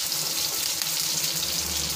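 Curry leaves sputter and crackle in hot oil in a South Indian kitchen while Tirunelveli idi sambar is made, a steady, close, dense sizzle with no voice.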